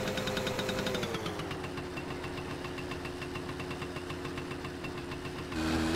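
A motorcycle engine in the video game My Summer Car drones steadily while riding along a highway. Its pitch drops early, then holds an even, buzzing hum, and it swells a little louder near the end.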